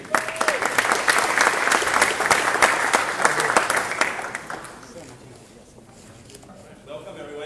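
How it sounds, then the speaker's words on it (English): An audience at an Australian security-token crypto event applauds loudly and steadily for about four seconds, then the clapping fades into room murmur before speech begins. "So let's ask to the stage and give a round of applause to Jason Lee from NEM."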